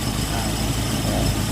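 A car engine idles steadily and close by during an alternator adjustment, a low, even rumble with a slight wavering in tone.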